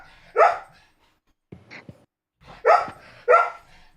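A dog barks four times in sharp, close yips, spaced irregularly with quiet gaps, the middle one softer and briefer, with no talking.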